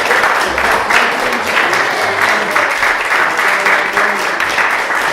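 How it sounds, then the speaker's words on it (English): Steady applause from a crowd, dense overlapping clapping filling the whole stretch at an even level, with faint murmuring underneath. "So a round of applause for those guys."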